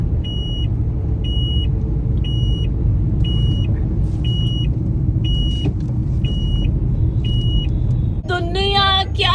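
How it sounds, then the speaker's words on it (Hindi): A car driving along a road at about 30 km/h, with a steady low engine and road rumble throughout, a regular beeping chime repeating above it, and a brief voice near the end. "30 की स्पीड पे चल रही है गाड़ी।"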